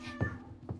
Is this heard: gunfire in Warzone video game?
no